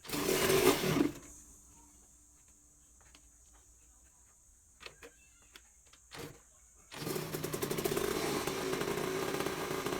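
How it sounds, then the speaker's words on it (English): A Yamaha YZ 125 two-stroke motorcycle engine starts after a quiet stretch with faint clicks, then settles into a loud, continuous buzzing idle for the final few seconds. "Now, let's see if this engine will fire up."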